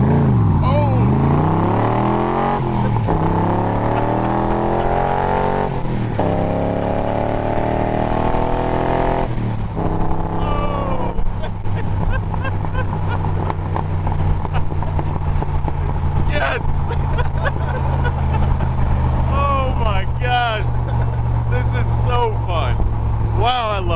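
A 1965 Cobra with a 302 crate motor accelerates hard, its engine note sweeping up through first gear then shifting and surging again, loud and close, with people talking over parts of it.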